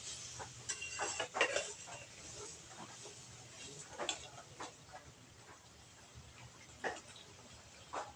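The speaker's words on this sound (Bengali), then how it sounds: "আলুর টুকরোগুলো দিয়ে একটু নাড়াচাড়া করে নেব" Potato pieces are stirred in a pan for chhanar malai kofta, with faint, irregular spatula taps and scrapes against the metal and a quiet background hum.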